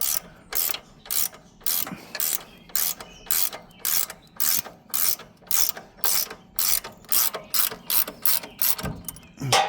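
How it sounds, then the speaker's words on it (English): A ratcheting wrench loosens bolts while a DR brush cutter is being set up, giving close, crisp bursts of rapid clicking in a steady back-and-forth rhythm, about twenty strokes with brief pauses between them. "I'll get back and use this ratcheting wrench"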